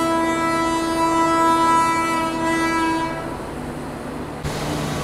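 The Begumpura Express sounds a long, loud, steady horn while stopped at Alamnagar railway station; the blast fades after about three seconds into low rail rumble and a faint clank.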